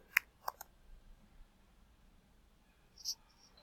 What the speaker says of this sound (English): click next to that, and type in data collection site